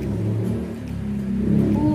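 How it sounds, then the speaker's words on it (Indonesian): A motorbike passes nearby with a brief rising engine drone that swells toward the end, heard over a quiet room. "Ada motor lewat."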